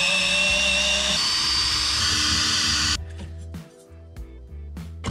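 Power tool whirring loudly and steadily while backing out four 10 mm shifter screws on a Volvo 740 being restored into a race car, then cutting off into quieter clicks and handling noises.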